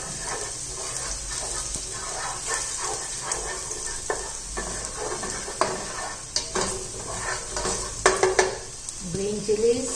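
Garlic sizzles in a hot pan while a utensil stirs and scrapes it in repeated strokes, with a few louder clinks near the end.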